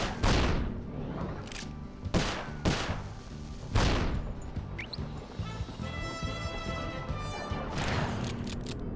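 Gunfire in the game Sly Cooper 4: several loud, sharp shots and blasts spaced irregularly over the first four seconds, followed by lighter pops and clatter over steady background game music.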